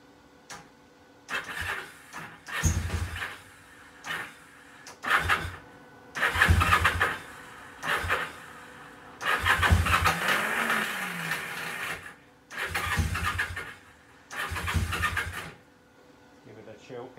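A Kawasaki KZ750 motorcycle engine cranks in about eight short, loud bursts separated by brief pauses, repeated starting attempts that never settle into a steady run.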